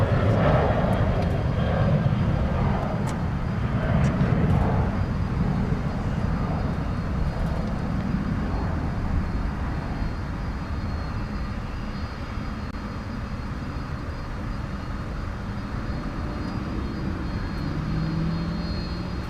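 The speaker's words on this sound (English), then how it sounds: "So if we can't get you a 747 tonight, at least we got you a couple of MD-11s." MD-11 jet airliners at DFW Airport at night give a continuous, loud engine roar with a broad low rumble that holds steady throughout, with no talking.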